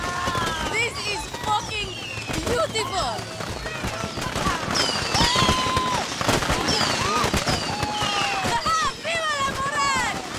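Rapid bursts of explosive pops and crackles from fireworks in Far Cry 6, with people talking and shouting throughout.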